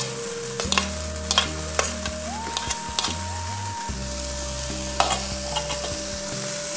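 Chopped beans and carrots frying in a pan for a veg frankie, a steady close sizzle with repeated clanks and scrapes of a stirring spatula, backed by a tonal music bed.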